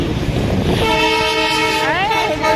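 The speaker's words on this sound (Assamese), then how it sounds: "গাইছ আহি গ'ল ট্ৰেইন।" A train rumbles past close by, its horn blaring in a long, steady blast that wavers slightly near the end.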